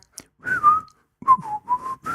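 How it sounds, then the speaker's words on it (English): Someone whistles a short melodic tune, a few sustained notes in two phrases with a brief pause between, close and clear. "Did you practice your whistling on the way over?"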